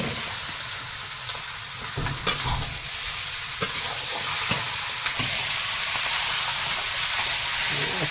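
Chicken meat frying in a pan over a wood-fired stove, with a steady broadband sizzle running throughout and several sharp clacks of a utensil against the pan.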